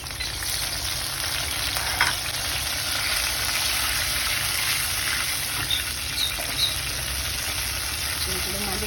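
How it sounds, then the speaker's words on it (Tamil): Tamarind water is poured into hot oil holding mustard seeds, cumin and a ground spice paste for temple-style sambar rice. A loud, steady sizzle carries on throughout, with faint stirring scrapes mixed in. "இது கூட வந்து இந்த புளி தண்ணி ஊற்றிடலாம்"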